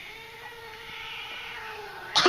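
A cat lets out a long, drawn-out, low and steady yowl, ending in a sudden loud burst of noise.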